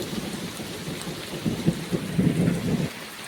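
Heavy rain pours steadily while thunder rumbles and swells through the middle, loud and close, with no voices over the storm.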